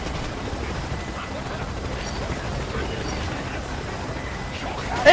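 Helicopter arriving in the video game Splinter Cell Conviction, its rotor and engine drone a loud, steady wash throughout with no quiet gaps.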